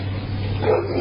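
A dog barks and yips nearby in a short burst, with a steady low hum underneath and a faint voice in the background.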